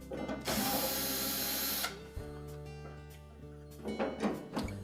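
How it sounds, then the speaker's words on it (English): Screws being backed out of the top panel of a Whirlpool clothes dryer with a Phillips screwdriver or drill: a long whirring burst of tool noise, then clicks and short mechanical rattles close up, with no talking. "two Phillips screws that secure the top to the inlet duct assembly, and we'll need to remove those"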